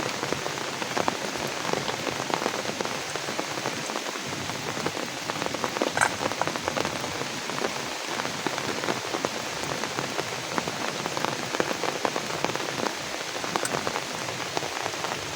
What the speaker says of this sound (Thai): ฝนตกนี่บ่หยุดบ่เซาเลย